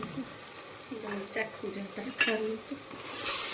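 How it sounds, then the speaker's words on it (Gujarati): Tava gravy with turmeric, red chilli and salt stirred in a pan, a steady sizzle with scraping spoon strokes and clinks, while a person talks softly over it. "બધાને એક સરખું હલાવી નાખવાનું છે સારી રીતના"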